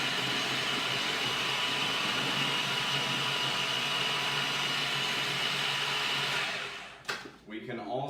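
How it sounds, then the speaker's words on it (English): A kitchen blender running on high while mixing birthday cake batter, a steady loud whir that holds for several seconds, then cuts off with a few short clattering sounds. "We're blending."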